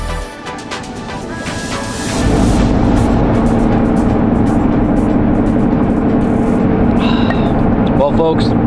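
A pickup truck heading north on a road on a cold early morning in Wisconsin: a loud, steady engine and road drone that swells after a couple of seconds and holds, with a few faint chirps on top.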